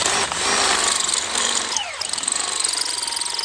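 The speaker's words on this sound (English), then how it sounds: "we'll drill some holes in these plates" Power drill boring holes through soft steel plates set on a block of wood, a loud continuous grinding whine with a shifting pitch and a slight dip midway, then steady rattling chatter to the end.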